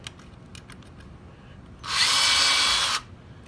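A power drill whines loudly through aluminum for about a second, guided by center-punched holes, preceded by a few light taps and faint background noise.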